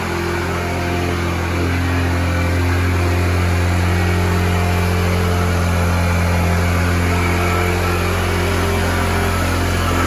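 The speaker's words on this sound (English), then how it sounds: "I have the idle set up high for the warm-up cycle." A Taotao 50cc bike engine idles high during warm-up. It is a loud, close, steady buzzing drone that holds an even pitch throughout, with no other sounds.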